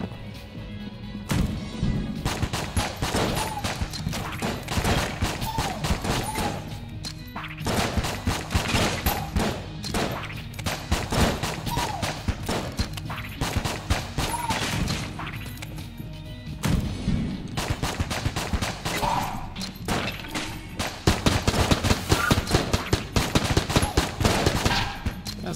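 Rapid pistol fire with ricochets rattles through Enter the Gungeon, dense bursts of sharp shots and impacts stacked almost continuously, briefly thinning near the middle and growing louder and more clustered toward the end.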